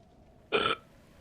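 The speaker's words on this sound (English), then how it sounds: "then hearing a loud burp" A loud, short burp from someone in a Guild Wars 2 session with friends, a single raspy burst of about a quarter second against a quiet background.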